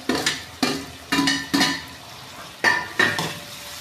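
Peas, green chilies and tomatoes being stir-fried in a pan for salted rice: clattering spoon scrapes and knocks arrive in quick uneven pairs over a light background sizzle, close and fairly loud.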